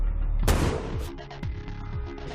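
A sniper rifle shot fired at a brick target during police sniper training: one sharp, loud blast followed by a rolling boom, then ringing and echoing tail with faint later thumps.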